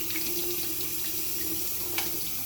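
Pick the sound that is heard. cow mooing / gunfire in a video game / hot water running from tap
hot water running from tap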